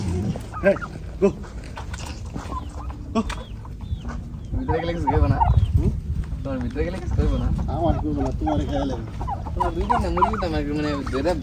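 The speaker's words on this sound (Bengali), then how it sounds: "ফারুক ভাই অনেকগুলা টার্কি যে মুরগি আছে, মুরগি পালে, টার্কি মুরগি।" Turkeys clucking and gobbling nearby, with overlapping bird calls and people talking in the background throughout.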